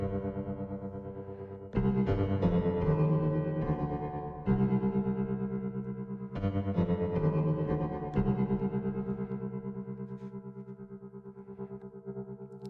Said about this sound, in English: This makes you more feel in that pulse, that heart effect